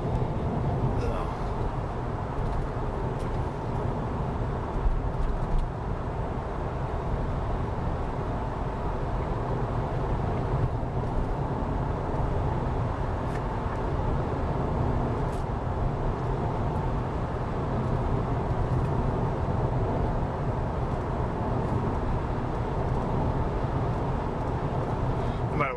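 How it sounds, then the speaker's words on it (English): Steady broadband road noise inside a 2014 Toyota Corolla on a freshly tar-and-chip resurfaced road, a continuous rumble and hiss holding even throughout with no talk. "So this road's a little bit noisier than most roads, just because of the method they use to resurface it"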